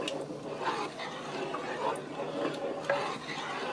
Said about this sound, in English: I'm going to stir that around.